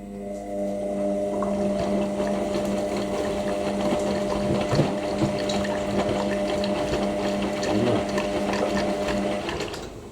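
An Indesit IWC6125 washing machine on a deep final rinse during a 90°C cotton program, with a steady, close mechanical hum and sloshing water running continuously.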